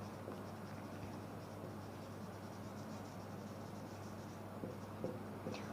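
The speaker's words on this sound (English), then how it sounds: "So first I will be writing" Quiet scratching of a pen or marker writing by hand while working a ratio example in math class, a soft continuous scraping patter over low room hum, with no voices.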